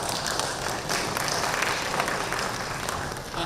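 Audience applause for conference panelists in a hotel ballroom session, a short burst of dense clapping from a crowd that stays steady and fairly loud throughout, with no voices over it.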